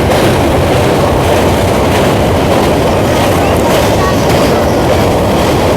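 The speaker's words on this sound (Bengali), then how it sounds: "আমাদের ট্রেন তার নির্দিষ্ট গতি নিয়ে কিন্তু ব্রিজের মধ্যে যাচ্ছে।" The 13149 Kanchankanya Express crosses a large river bridge over a mostly dry riverbed, heard from on board. A loud, continuous rumble of wheels and carriages carries rhythmic clatter throughout.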